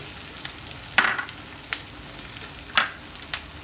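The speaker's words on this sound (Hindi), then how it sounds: "अब डालेंगे जुकनी" Sliced green zucchini sizzles in a pan for pasta, a steady frying hiss broken by a few sharper crackles and stirring scrapes, close and alone.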